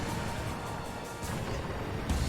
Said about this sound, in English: Gunners providing gunfire.